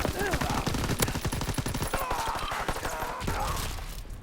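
Rapid sustained gunfire from Call of Duty WW2 on PC, dense bursts of rifle and machine-gun shots crackling continuously up close, with voices shouting over the battle.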